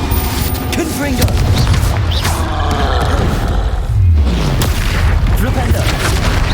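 A wizard video game fills the space with a constant roar of spell blasts and booming impacts, loud and dense, with a voice calling out incantations over the din.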